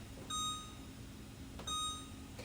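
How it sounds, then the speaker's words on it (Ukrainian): A kitchen timer chirps in two short bursts of high, bright beeps a little over a second apart while being set for boiling rice, close by against a faint room hum. "Готувати 5 хвилин. поставлю одразу таймер"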